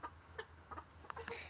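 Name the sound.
chickens clucking in a coop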